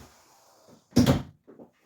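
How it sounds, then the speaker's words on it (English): A workshop door swings shut with a single solid thud up close, followed by a couple of faint knocks, with a low room hum in the background. "I just closed my door."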